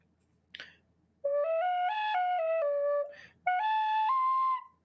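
A tin whistle plays a few clear sustained notes in two phrases, stepping between pitches, loud and close, with a brief breathy noise before the first phrase and no talking.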